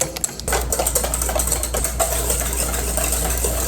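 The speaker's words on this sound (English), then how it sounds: "200 grams of sugar and then 3 eggs. We're just gonna whisk all that together." Whisking 200 grams of sugar with three eggs for lemon bars: a rapid, even clatter of ticks over a low humming drone, close and steady throughout, with no talking.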